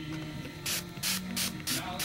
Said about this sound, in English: and just spray it real good.